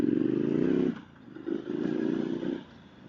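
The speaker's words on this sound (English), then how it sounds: "the motorcycle seems to really be going with every turn that is thrown at it" A 2018 Street Scrambler motorcycle rides a forest trail of hard pack and sand, its engine droning steadily up close, then easing off before rising again.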